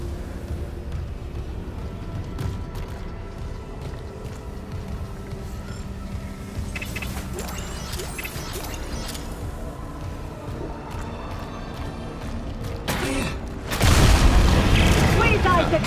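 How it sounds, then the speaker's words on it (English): In the video game Dead Space Remake, the force cannon fires a heavy, booming blast near the end, loud and sustained over a continuous rumbling game soundscape. "Go a little too overkill with the force cannon."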